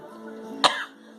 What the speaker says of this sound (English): Sorry guys, I have a bit of a cough.